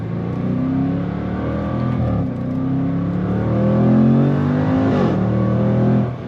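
A Jaguar F-Pace SVR 575 Edition SUV with its stock exhaust accelerates hard, the engine note climbing through rising revs and shifting gears, loud and close for about six seconds with no talking.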